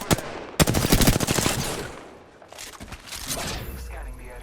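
Rapid automatic gunfire in the battle royale shooter Apex Legends on the Kings Canyon map, with loud bursts in the first second and a half, then a lull and more distant shots, with voices talking over it.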